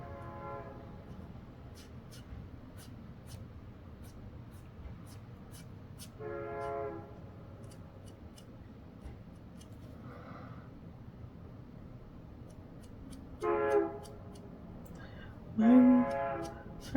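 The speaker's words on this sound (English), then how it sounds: "you can really hear the train" A distant train rumbles steadily, with a few faint horn blasts rising briefly near the middle and end.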